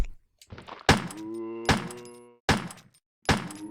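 Four heavy knife thunks land on a downed zombie in Resident Evil, spaced evenly about a second apart. Each close, solid impact is followed by a droning, tonal ring.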